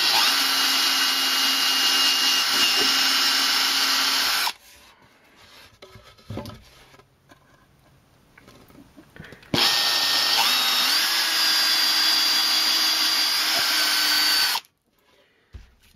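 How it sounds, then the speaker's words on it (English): A handheld power drill bores into the base of a Warlord Titan model, held by hand without a drill press; two long, loud, steady whining bursts, each about five seconds, separated by a quiet stretch of faint handling noises. "So drilling."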